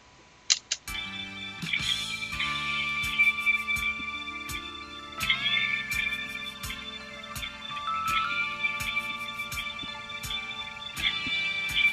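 A mellow, soulful hip hop loop with soft, light kicks and bright ticking percussion, played dry and fairly quiet with no voices.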